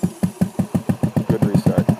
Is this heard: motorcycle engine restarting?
yes